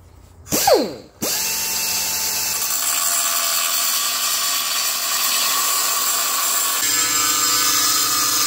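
An air-powered cut-off wheel spools up with a brief rising whine, then grinds steadily and loudly through the exhaust tips on a Dodge Challenger during a hitch install, holding a constant harsh buzz.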